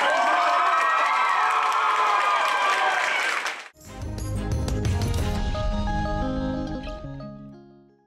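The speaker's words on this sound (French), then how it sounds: "On se fait l'applaudissement à nos deux animateurs" A crowd at a local event cheers and applauds two hosts, loud and dense with whoops, for a few seconds before it cuts off and music takes over.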